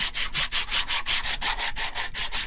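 Sandpaper rubs with quick, even back-and-forth strokes on a 100-year-old carburetor during restoration, heard close and alone at roughly five strokes per second.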